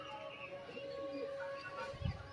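Pigeons settle in to land, giving soft cooing calls over a quiet outdoor background, with a short low flutter of wings close by near the end.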